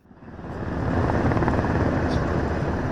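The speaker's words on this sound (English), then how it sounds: "Helicopters were seen landing inside the South Korean assembly grounds while others circled above the site." Helicopters circle and land over the South Korean National Assembly grounds during the martial law declaration, a loud rotor thrum swelling up in the first second and then holding steady and close.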